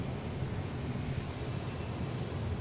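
An Air Portugal airliner passes overhead near Boston Logan, a steady broadband engine roar that stays loud and even throughout with no talk over it.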